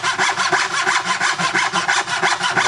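A hand saw cuts a wooden dovetail joint held in a Moxon vise, its steady rhythmic rasping strokes loud and close, about six strokes per second with no talking.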